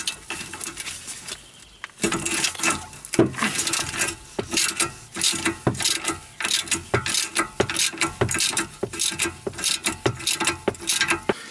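A hand ratchet loosens the two sway bar link bolts on a car's stabilizer, giving a steady run of close, sharp clicking bursts after a quiet opening, with no talking.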